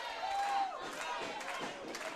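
A wrestling crowd at a Red River show roars and cheers for Fuego del Sol during a four-way match, a continuous distant swell of voices with a brief whistle-like shout at the start and commentators talking over it.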